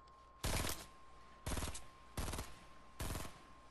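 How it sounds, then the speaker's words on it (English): Gunfire in Fortnite: four loud, separate bursts of rapid shots spaced about a second apart, each short and sharp against a quiet background. "Hey, I'm getting shot. I'm getting shot."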